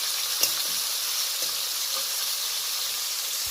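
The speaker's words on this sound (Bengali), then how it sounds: "এই দেখুন বেশ লালচে করে মাছগুলো ভেজে নিয়েছি" Pieces of a large shimul tengra catfish, about four kilograms, fry in hot oil in a pan, making a continuous close sizzle with a few soft clicks as they are turned.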